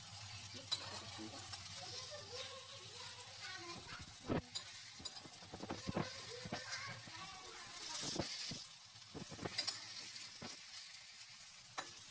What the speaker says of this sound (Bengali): এখানে তেলটা গরম হয়ে গেছে, এরকম করে বেগুনের বড়া করে খাবেন